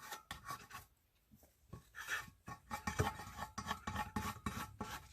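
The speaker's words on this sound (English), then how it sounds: "And a nice squeegee." A squeegee scrapes over transfer tape on a tumbler in close, raspy rubbing strokes, with brief pauses between passes.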